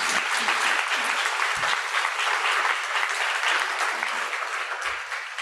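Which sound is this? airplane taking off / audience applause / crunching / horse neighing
audience applause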